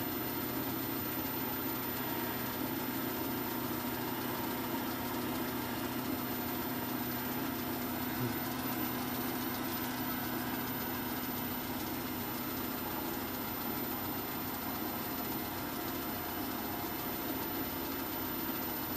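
A polishing machine spins at around 1800 rpm, buffing a fancy-shaped piece with new polishing paste on a rag: a steady, even motor hum with a constant whirring tone that holds unchanged throughout.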